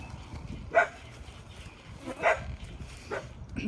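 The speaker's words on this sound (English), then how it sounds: "I have no clue who she's barking at." A pet dog named Minnie barks at cats indoors, three short separate barks spaced over a few seconds, moderately close and not loud, against a quiet room background.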